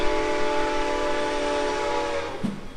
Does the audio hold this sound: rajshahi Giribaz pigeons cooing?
no